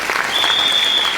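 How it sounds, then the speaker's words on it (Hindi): An audience at a DXN India gathering in Bihar bursts into loud, dense applause, a brief continuous wash of many hands clapping together. "एक बार फिर से जोरदार ताली सभी लोग के लिए"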